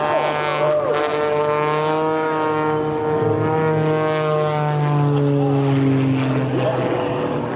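A steady, loud droning helicopter engine with strong harmonic tones, flying nearby at an air show, continuous throughout with a slight pitch shift.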